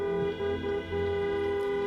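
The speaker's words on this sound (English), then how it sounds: "Let me hear some honks if you agree with that." A sustained, steady car horn blares with strong harmonic tones, briefly dipping before continuing, loud and close with no talking, at a healthcare workers' rally at Queen's Park.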